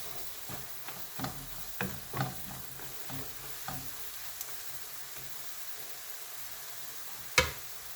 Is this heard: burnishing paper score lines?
no